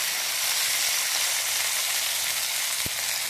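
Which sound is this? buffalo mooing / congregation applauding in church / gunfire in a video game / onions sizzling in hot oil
onions sizzling in hot oil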